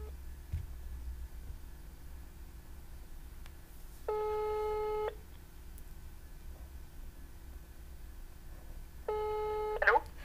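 A landline call being placed: faint background hum, then two separate spells of steady electronic telephone tones, each about a second long, with a short louder burst at the end.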